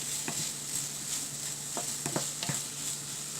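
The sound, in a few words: frying onions and broccoli in a pan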